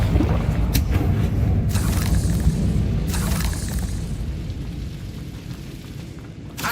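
Booming fiery blasts from the Confringo spell in Hogwarts Legacy, a dense rolling explosion roar with several sharp bursts layered on top, loud and sustained before fading.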